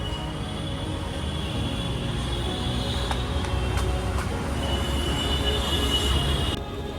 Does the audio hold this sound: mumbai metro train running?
yes